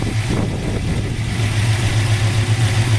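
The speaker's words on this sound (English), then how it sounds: "It's got an exhaust that just thumps and sounds great as well." A 1972 Ford Mustang Mach 1 with aluminum heads, headers and dual exhaust idles close by, a loud, steady low thumping burble with a brief blip near the start and no talking.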